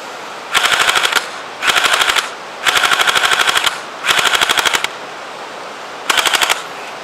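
An airsoft M41 gun fires full auto in five loud bursts of rapid rattling shots, each lasting about half a second to a second with short gaps between, close and clear outdoors.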